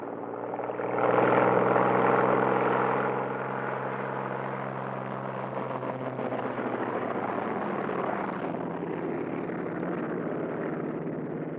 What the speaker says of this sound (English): Second pair taxis out.